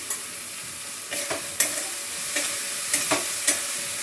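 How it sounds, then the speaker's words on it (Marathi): Turmeric sizzling in hot oil at home for a spring onion greens sabzi, a steady soft fry hiss with a few stir clicks and scrapes scattered across it, close and moderately quiet, no voices. "तेलामध्ये हळद टाकून दिली मी"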